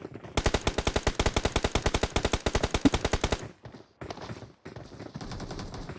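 Automatic gunfire in the battle royale game BGMI rattles out in a rapid, loud burst of evenly spaced shots for about three seconds, followed by shorter, quieter bursts and scattered clatter.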